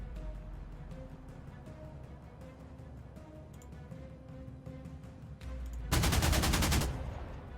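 Artillery fire in the strategy war game Panzer Corps 2: a low rumbling game soundscape with faint tones, then a loud, dense burst of gunfire-like blasts lasting about a second near the end.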